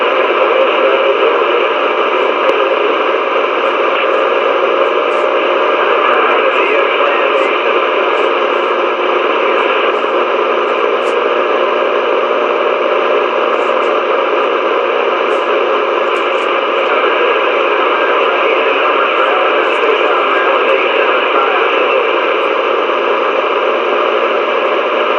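A CB radio channel hisses with steady, loud static throughout, a dense broadband wash with faint crackles and no clear voice breaking through, heard during a late-night storm.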